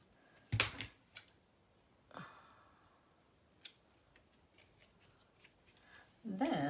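Sharp scissor snips cut knotted thread close by, a few quick separate clicks with quiet handling noises and soft rustling between them.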